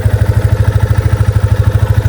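A Yamaha FZ25 motorcycle idles with its engine kill switch on, giving a loud, steady, evenly pulsing low exhaust thump at a regular beat, close and alone, with no voices.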